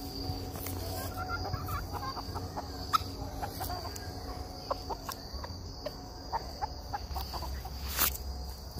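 Chickens clucking near a coop, with soft scattered clucks and chirps over a constant insect hum and faint background noise, no talking.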